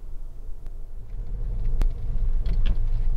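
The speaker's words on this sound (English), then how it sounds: "this is a road test video for a Honda Civic" A 2009 Honda Civic 1.8 i-VTEC EX GT five-door automatic rumbles with low, steady engine noise. A sharp click and a few small knocks break in, and the sound builds slightly toward the end.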